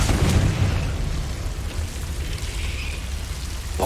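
A fire-blast spell explodes in a video game: a broad, rumbling burst with heavy low-end boom that sustains and crackles steadily for several seconds, loud and close, with no talking.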